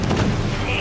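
A deep, rumbling blast fills the short moment, with heavy low-end booms and crackling debris, loud and close, like explosion effects in the video game Halo 5: Guardians.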